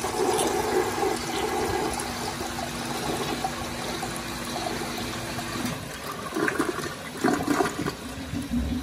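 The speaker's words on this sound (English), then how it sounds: "Let's flush it." A toilet on a flushometer setup flushes with a steady, forceful rush of water. The rush gives way to gurgling, trickling refill water near the end. Heard up close and with no talking.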